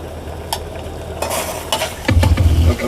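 Water at a rolling boil in a pot as beef is added for a Thai blanched-beef dish, a steady bubbling hiss with a brief clatter and a louder burst of bubbling near the end, close up.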